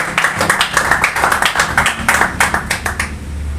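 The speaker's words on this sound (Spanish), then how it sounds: "Denle un aplauso pues a Cristo Jesús si usted lo cree" A church congregation claps together in a steady, fairly loud burst of overlapping handclaps, sharp broadband strikes with a low background hum underneath, lasting a few seconds without clear talk.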